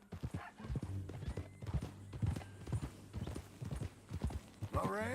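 Horse hooves clip-clop steadily in Red Dead Redemption 2, a rhythmic run of close hoofbeats under talking voices, ending with a horse whinnying.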